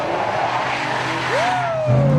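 A car driving fast roars close by, then its tires let out a loud, rising squeal as it skids, with the engine note climbing sharply at the end.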